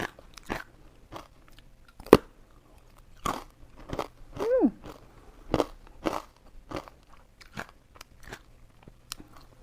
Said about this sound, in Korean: 이거는 진짜 식감이 좋아요. 바삭바삭.